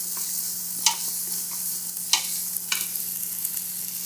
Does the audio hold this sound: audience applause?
no